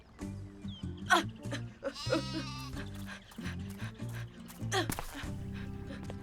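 A cartoon lamb bleats in several short, wavering cries spread across the scene, mixed with music-like tones and other effects, fairly close and clear.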